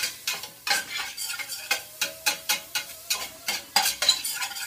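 Onions and curry ingredients for a Maldivian tuna curry saute in a pan, stirred in a quick steady rhythm of about a dozen scraping strokes over a soft sizzle, close and distinct.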